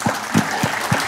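A conference plenary audience gives a short, sparse burst of applause, a few distinct hand claps at a steady pace in a large room.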